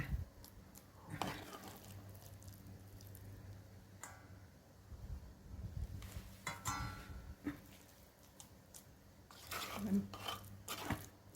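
Cooked fermented fish dip being scooped from a pot into a basin, with scraping, clinking metal utensil strikes at an irregular pace, close by.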